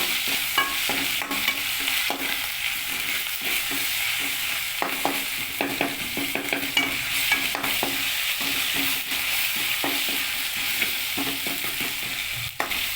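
Onions browned red frying with ginger and garlic paste for a chicken dish, a steady close sizzle with repeated scraping stir strokes throughout.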